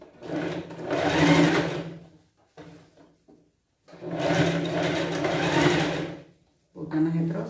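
A sewing machine stitches the side seam of a pet Cinderella costume dress, running in two long steady whirring passes separated by brief pauses, then starting again at the end.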